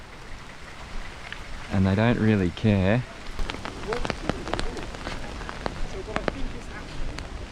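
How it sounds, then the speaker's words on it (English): Steady rain patters across the whole scene while someone talks briefly in the foreground. "It's raining"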